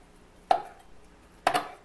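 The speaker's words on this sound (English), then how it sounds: "all we're going to do is chop up our thighs into chunks small enough to put on the skewers later" A knife chops chicken thighs into chunks on a cutting board, two sharp, close thuds about a second apart against a quiet background.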